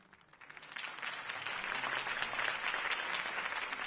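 A crowd bursts into sustained applause after a campaign speech in a Batman Telltale video game, swelling from a quiet start into a steady, fairly distant wash of clapping.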